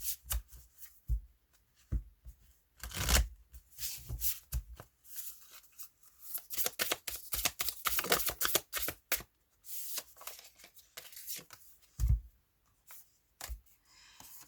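Oracle cards being shuffled for a three-card reading, a series of close, crisp riffling and flicking bursts in irregular clusters separated by short pauses, with no talk.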